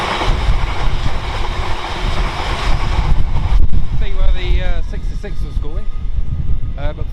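A freight train led by locomotive 66755 passes through Stafford station on the West Coast Main Line with a loud, dense rumble that thins out halfway, and a voice talks over the fading tail.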